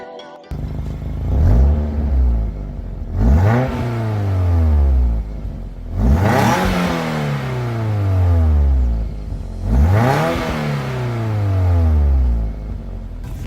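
A Toyota MR2 with a Toyosport aftermarket exhaust revs hard several times in a row, each rise falling back to a deep, throaty rumble, loud and close, with no talking.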